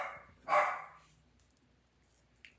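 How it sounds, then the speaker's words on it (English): A small dog gives a single sharp bark nearby in a quiet indoor room, followed by faint rustling. "Don't bark at something."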